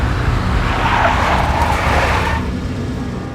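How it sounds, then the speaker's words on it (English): A big black Mercedes in the Max Payne video game skids with a sustained, rushing tire and engine roar that holds steady, then eases off near the end. "A big black Mercedes."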